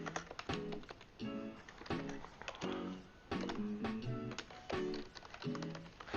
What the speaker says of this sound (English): I went to work to pick up my ergonomic keyboard, and my typing's a lot better.